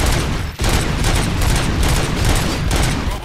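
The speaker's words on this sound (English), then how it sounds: "Gunshots?" Rapid, dense gunfire in the video game RoboCop: Rogue City, a loud continuous fusillade of overlapping shots with one brief dip early on.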